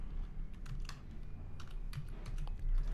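Fingers tap out code on a computer keyboard in a quiet, steady patter of soft, close clicks, with no talking over them.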